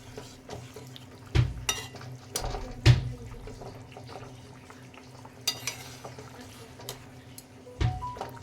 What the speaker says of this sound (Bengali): একটু জল দিয়ে দিলাম ওর মধ্যে, দিয়ে ভালো করে নাড়িয়ে নেব।